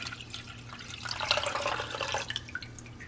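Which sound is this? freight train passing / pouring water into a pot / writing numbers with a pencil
pouring water into a pot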